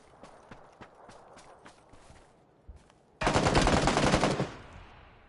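Gunfire in the PUBG video game on PS4: a few scattered single shots, then a loud, sustained burst of automatic fire lasting about a second before it cuts off.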